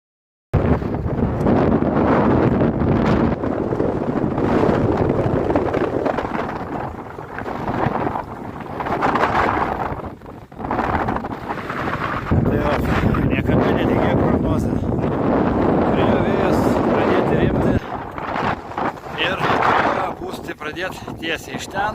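Strong wind buffets a sailboat under way, roaring and gusting loudly against the microphone with brief lulls, and a voice speaks through it.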